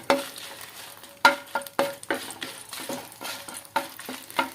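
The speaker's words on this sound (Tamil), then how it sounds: "இப்போ நம்ம சிவப்பு மிளகாயை இந்த எண்ணெயில் போட்டு நல்லா வதக்கிடலாம்." Red chillies frying and being stirred in hot groundnut oil, a steady sizzle broken by repeated scraping strokes of a spoon against the pan, close and moderately loud.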